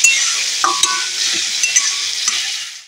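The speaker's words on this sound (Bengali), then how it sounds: "পেঁয়াজ টমেটো ভাজার সময় গ্যাসের ফ্লেমটা কমানো আছে, তাতে করে ভালো ভাজা যাবে, ধরে যাবে না।" Onions and tomatoes fry over a low gas flame in a pan, giving a steady close sizzle broken by a few brief spatula scrapes and stirs, with no voices.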